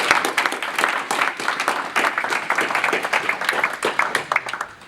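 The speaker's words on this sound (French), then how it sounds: "On fait un applaudissement à Monsieur le Directeur." Steady applause from an audience at a council meeting, many hands clapping close and continuous for several seconds, then thinning out toward the end.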